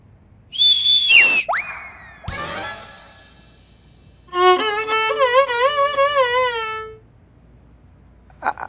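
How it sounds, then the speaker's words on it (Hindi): A whistle is blown to signal a start, first as a short shrill blast and a sliding squeak, then a longer warbling trill lasting a few seconds, loud and close. "तो हम ही सीटी मारे हैं आपके शुरू के लिए"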